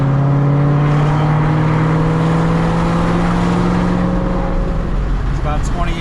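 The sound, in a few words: Ford GT500 with Corsa Sport exhaust revving and accelerating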